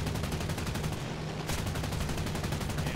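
SNCASO SO.8000 Narval aircraft guns fire in a continuous, dense burst, loud and close throughout, with a brief dip partway through before the steady rapid rattle resumes.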